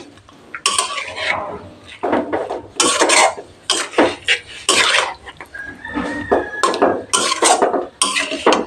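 Fish being mixed with turmeric and spices in a pot: close, busy clattering and clinking of utensils against the vessel in irregular bursts, with rubbing and scraping between them, fairly loud with no talking.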